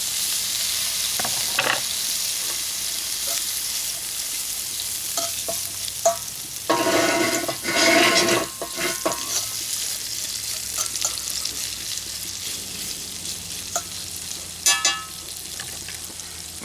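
Food sizzles and is stirred in bacon grease in a cast iron pan over a rocket stove, a soft continuous fry with scraping bursts of stirring and a few clinks nearby.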